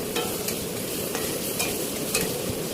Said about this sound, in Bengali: এখন পটলটা আধেক ভাজা হয়েছে